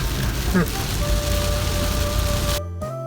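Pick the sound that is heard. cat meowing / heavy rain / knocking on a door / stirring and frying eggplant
heavy rain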